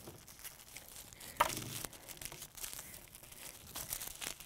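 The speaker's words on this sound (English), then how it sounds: "So you're just gonna fold it over like this, and then fold it again," Paper squares being folded accordion style for craft paper flowers, with continuous close crinkling and creasing that shows a sharper crunch partway through and no talking.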